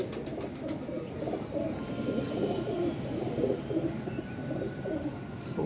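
A teddy female pigeon cooing softly over a steady bed of background bird noise, with low, rolling coos repeating throughout.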